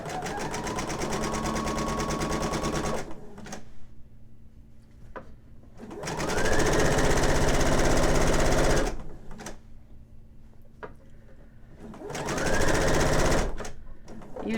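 A sewing machine stitches a men's shirt placket in three loud, steady runs of a few seconds each, rapid mechanical whirring separated by quiet pauses with faint clicks.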